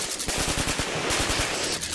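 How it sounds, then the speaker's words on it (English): Rapid bursts of automatic gunfire, loud and close, with shots rattling in quick succession and no pause across the short stretch. "No! No! Stop shooting!"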